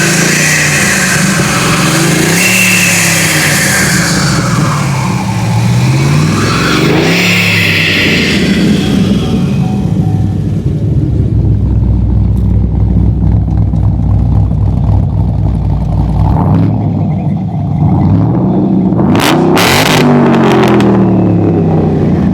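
A supercharged LS V8 in a Holden VF SS, cammed, revs loudly and steadily close by, with rising and falling engine tones and a whine from the supercharger, then settles into a rougher idle with a couple of brief blips.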